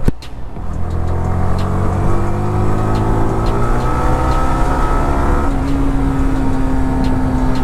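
A Yamaha R15 motorcycle engine revs loudly and steadily while riding, a sustained buzzing drone that climbs in pitch and then shifts after a gear change near the end, heard close.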